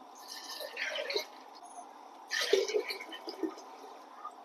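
Water is poured into chana dal in a pressure cooker, two short bursts of splashing and trickling with a few drips between them, close and fairly quiet.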